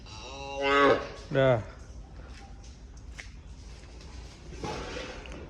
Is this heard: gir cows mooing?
yes